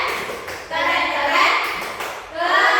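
A primary school class claps the rhythmic 'tepuk keren' cheer in an Indonesian classroom, children's patterned clapping filling the room with excited voices mixed in.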